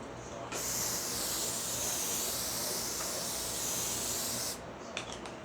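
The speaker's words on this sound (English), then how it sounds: "Spray down the pan." Cooking spray hits a pan in one close, steady hiss lasting about four seconds, with quiet handling sounds before and after.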